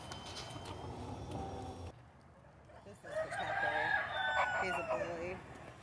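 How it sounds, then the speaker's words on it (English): At an animal sanctuary, a small orange rooster crows twice, a hoarse drawn-out call in the middle distance, with softer clucking and voices talking in the background. "He's always crowing, right? This little orange fuzzy guy."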